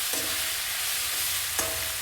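Mandakki, or puffed rice, is tossed into a tempering in a pan, with soft scraping and stirring over a low steady sizzle and two brief sharper scrapes. It sounds close, with no one talking.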